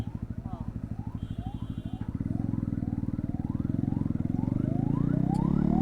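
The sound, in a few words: ambulance siren on the road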